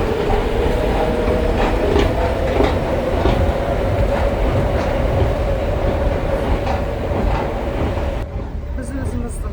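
An Istanbul metro train runs along its line with a steady, loud rumble and rhythmic clatter of wheels over rail joints, and muffled voices carry faintly through the carriage.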